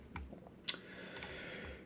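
Sparse, faint key clicks from typing on a computer keyboard, a few soft taps and one sharper click over a quiet room hiss.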